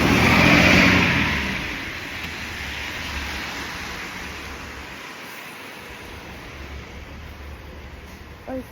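A car speeds past at a red light, its engine loud and close at first, then fading into a steady road rumble as it moves away.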